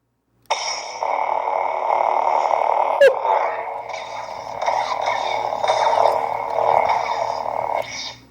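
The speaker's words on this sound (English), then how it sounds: "The hum of this lightsaber is phenomenal." Cal Kestis Legacy lightsaber replica humming close to the mic, a steady buzzing drone with a brief swing flare partway through, held for several seconds then cut off.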